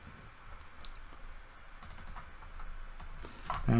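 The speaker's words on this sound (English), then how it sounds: "oops, typing too fast" Quick keystrokes on a computer keyboard, a run of close, light clicks that grows a little busier toward the end, with no talking.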